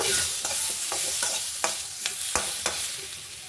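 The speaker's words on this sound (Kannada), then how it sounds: "ಎಣ್ಣೆಯಲ್ಲಿ ಫ್ರೈ ಮಾಡಿಕೊಂಡು ಕೊಬ್ಬರಿನೂ ಇದಕ್ಕೆ ಹಾಕೊತಾ ಇದ್ದೀನಿ ಫ್ರೆಂಡ್ಸ್ ಒಂಚೂರು ಬಿಸಿ ಮಾಡ್ಕೊಳ್ಳೋಣ" Grated coconut frying in hot oil in a pan while being stirred, giving a steady close sizzle broken by repeated sharp scraping strokes of the spoon against the pan, with no talk.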